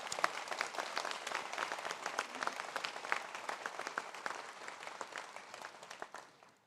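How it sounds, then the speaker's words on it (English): Applause from a crowd at a university conferring ceremony, a steady dense patter of many clapping hands filling the hall at close range, slowly thinning toward the end. "I think that deserves a round of applause."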